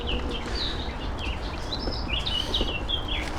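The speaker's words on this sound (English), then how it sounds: "You hear that bird singing?" A bird sings in short, high chirping phrases over a low outdoor rumble, faint and at some distance, on a ride along the River Trent from Beeston to Trent Bridge.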